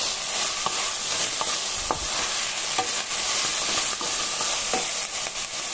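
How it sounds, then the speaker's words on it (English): Fenugreek (methi) fries in a pan with steady, loud sizzling and occasional stirring scrapes throughout, with no talking. "Fry it nicely"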